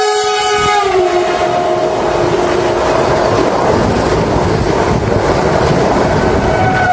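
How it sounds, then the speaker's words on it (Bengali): A passenger train leaving Malda station bound for Kamakhya. A loud horn blast sounds in the first second, then the close, heavy rumble and clatter of the moving train continue. "আমাদের ট্রেন ফাইনালি আবার মালদা স্টেশন থেকে রওনা দিল"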